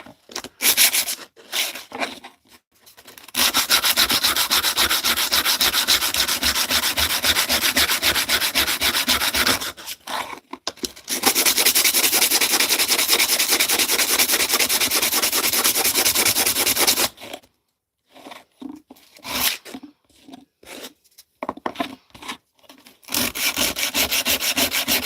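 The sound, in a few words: sanding wood with 80 grit sandpaper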